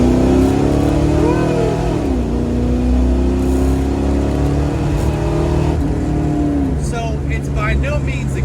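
A Ford Mustang Foxbody with a newly fitted transmission revs hard and accelerates, its engine note climbing loudly and close, then dropping briefly at gear changes before climbing again.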